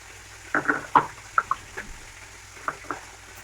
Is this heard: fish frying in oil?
yes